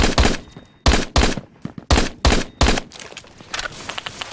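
An MSG 90 rifle fires rapidly in Phantom Forces: about eight sharp, loud shots close together, then softer distant gunfire trailing off.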